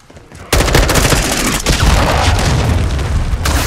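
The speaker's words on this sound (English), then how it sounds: "Friendly cruise missile inbound." A cruise missile strike in Call of Duty: Modern Warfare 2 sets off a loud, sustained barrage of booms and rumbling blasts that continues unbroken to the end, with heavy gunfire mixed in.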